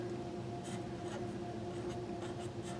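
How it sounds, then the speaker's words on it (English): A pen scratches across paper up close in a steady, continuous stream of soft rubbing strokes with a few sharper flicks, alone without talk. "So I would write like this."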